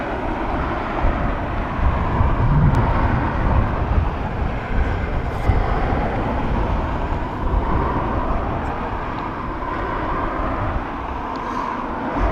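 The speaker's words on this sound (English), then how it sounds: "ATR coming in from Donegal." An ATR turboprop arriving at Dublin Airport on a flight from Donegal gives a steady, loud, broad roar that holds continuously throughout, with wind buffeting and no talking.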